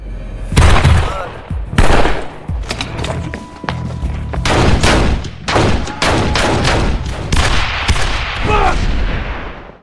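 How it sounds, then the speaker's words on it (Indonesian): Rapid gunfire in a film's sniper-rifle shootout with a Mexican cartel, a dense run of loud, sharp shots and booms firing in quick irregular bursts for about ten seconds with hardly a pause. "Hingga saat itu juga, aksi baku tembak pun tak terelakkan."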